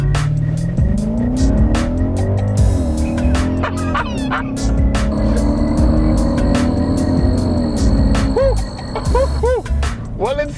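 A 2012 Hyundai Genesis R-Spec with its 5-liter V8 accelerates hard with traction control off, the loud engine note rising and falling through the run and the tires chirping and squealing near the end.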